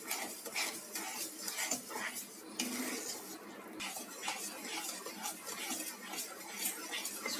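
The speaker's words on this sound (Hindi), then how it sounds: "इसलिए इसे हिलाते रहेंगे।" Semolina being stirred as it roasts dry in a pan for suji halwa, with a spoon scraping and clinking against the metal in a steady repeated rhythm, close and moderately loud, no talking.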